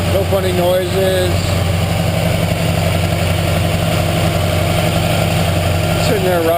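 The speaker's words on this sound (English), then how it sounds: "Sitting there rock solid, very smooth. Smooth idle. That's your cold start." A 1966 Dodge Charger idles steadily after a cold start, a deep, even engine rumble holding close and constant throughout, with voices talking over it.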